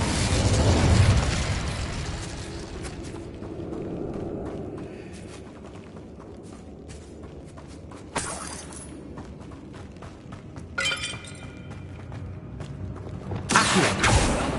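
Incendio fire spells are cast in Hogwarts Legacy on PS5, opening with a loud roaring fiery burst, then quieter crackling with several sharp flaring bursts later; no talking is heard.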